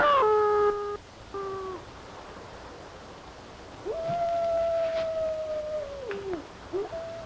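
A wolf howls several times, with short wavering calls at first and then a long sustained howl that falls off at its end, moderately loud over faint background hiss.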